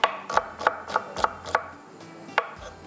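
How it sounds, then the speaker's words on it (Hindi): A knife slices onions on a cutting board with about seven crisp, evenly paced chops, then a short pause before one final cut, with no voices. "प्याज को भी इसी तरह से स्लाइस में कटिंग कर लेंगे"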